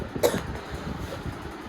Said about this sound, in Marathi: मला इतकी सर्दी झालेली, इतका खोकला झालेला